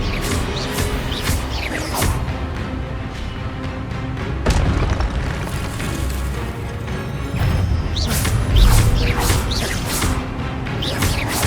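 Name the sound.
Expelliarmus spell cast in video game Hogwarts Legacy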